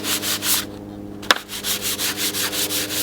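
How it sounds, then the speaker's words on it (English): Sandpaper rubs against the tip of a windsurf sail batten in a steady series of close, rhythmic, hissing strokes. One sharp tap breaks the rhythm partway through. "You can use 80 grit to get the right shape. And then go to 220 to smooth it out."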